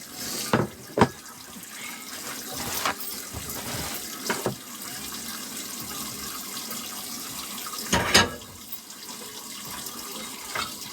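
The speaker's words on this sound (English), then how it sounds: "I'll wash up." Water runs from a tap into a sink during washing up, a continuous hiss broken by several sharp clatters and splashes of dishes, with no voices.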